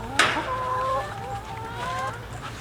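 A hen gives a sharp squawk followed by a run of drawn-out, wavering clucks and warbles, close by, over a low background hum.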